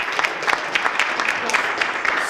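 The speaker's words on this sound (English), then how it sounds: "can we do an applause so that everybody knows we applauded?" An audience claps steadily at a talk on the elderly and the war on poverty, a dense, even patter of many hands at moderate distance lasting the whole moment.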